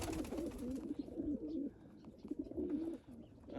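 Jansen de Klak breeding pigeons coo softly in repeated throaty, rolling calls, fairly quiet, with faint background noise between the phrases.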